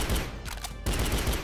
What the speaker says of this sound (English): It's all the mines going off.